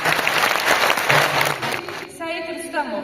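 Dense applause from an audience at a school music performance in a Horadiz culture hall, loud and sustained before fading out, with a voice speaking over the tail end.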